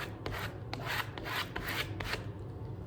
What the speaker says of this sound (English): take your library card again, rub it on the stencil on the wooden block